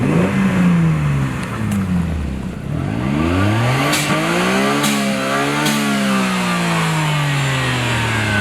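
A BMW E30 325iS inline-six, running low on oil, revs repeatedly up and down with rising and falling engine pitch and sharp blips, loud and close, with no talk over it.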